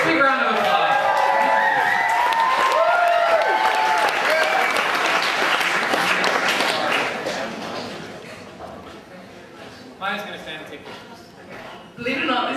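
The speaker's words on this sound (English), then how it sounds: "So, big round of applause." An audience at a Nerd Nite talk bursts into loud applause with whoops and cheers for a presenter, the clapping thinning and fading over several seconds before a voice begins speaking.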